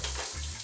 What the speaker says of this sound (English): We're gonna saute our vegetables,